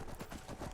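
Horse hooves clip-clop in a steady rhythm while riding in the video game Skyrim, close and moderately loud with no talk over them.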